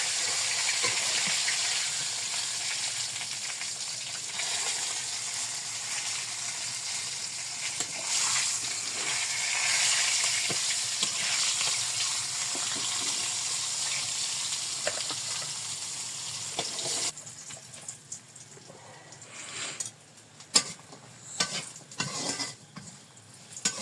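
Lentil dumplings (bori) fry in hot oil in a pan with a continuous close sizzle and hiss. Later the sizzle drops away and scattered scraping and knocking stirs take over, with no voices.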